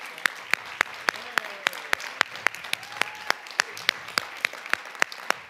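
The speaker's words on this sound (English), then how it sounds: "So I just want to get that applause, Rachel and your team, always" A small audience at a delegate farewell applauds the assistants, helpers and volunteers with sparse claps. A few sharp, distinct hand claps repeat at a fairly even pace.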